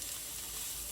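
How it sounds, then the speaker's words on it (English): Garlic and onion sautéing in butter on a stovetop, a steady close hiss and crackle of sizzling that holds evenly throughout without pause. "Saute some garlic and onion for the sauce."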